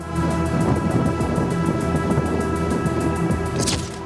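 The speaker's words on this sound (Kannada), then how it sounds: "ಉತ್ತರ ಕನ್ನಡದಲ್ಲಿ ಮಳೆ ಅಬ್ಬರ ಹೆಚ್ಚಾಗಿದೆ" Heavy monsoon rain and storm wind in coastal Uttara Kannada roar as a dense, continuous wash of noise, with low rumbling underneath and no voices.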